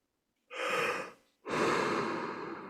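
Two deep breaths close to the microphone, a long airy inhale followed by a longer, heavier exhale, in otherwise quiet surroundings.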